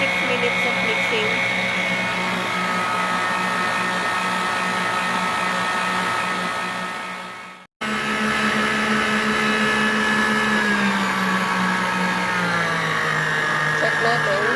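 Kyowa stand mixer whisking with its whisk attachment, a steady loud motor whine with a high-pitched hum that briefly cuts out midway and then resumes, while a person talks over it.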